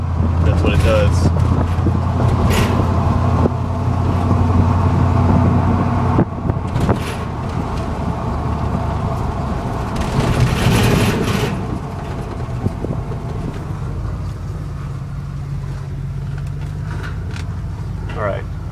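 A Ford F150 pickup being power braked, its engine roaring loud and close with a low rough grinding drone that eases off partway through, then a quieter idle with scattered knocks.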